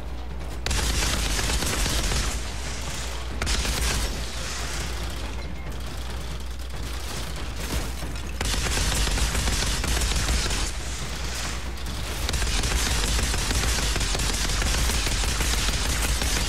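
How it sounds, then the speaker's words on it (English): Light machine gun firing in Outriders, long sustained bursts of rapid loud gunfire with short pauses between them, close and dominant, no speech. "Surprisingly, very accurate light machine gun."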